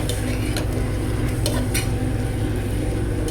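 Sauerkraut sautéing in a pan, a constant close sizzle and fry with a few sharp clinks of a utensil stirring against the pan, no talking.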